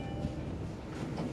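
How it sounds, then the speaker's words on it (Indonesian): MRT train at Bundaran HI station in Jakarta, a steady low rumble of rolling rail cars heard fairly faintly with no voices over it. "di sini aku sudah sampai di stasiun MRT Bundaran HI"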